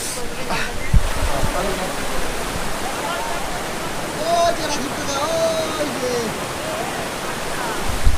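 Rushing water from a hidden waterfall with a strong current in the hills of Assam, a steady broadband roar filling the scene, with a few faint voices and brief knocks over it.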